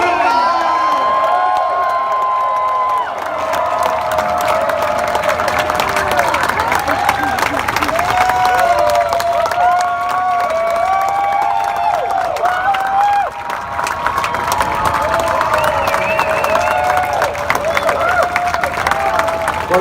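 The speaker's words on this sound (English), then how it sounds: "Keep the applause going." Large crowd cheering, whooping and clapping at a RoboCop car event in Dallas, a dense continuous roar with high shouts and applause sustained throughout, close and loud.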